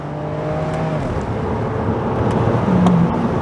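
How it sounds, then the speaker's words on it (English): BMW Z4 engine blipping its revs on automatic rev-matched downshifts, a steady loud drone with rising pitch flares, heard from inside the car with no talk. "Rev matches downshifts."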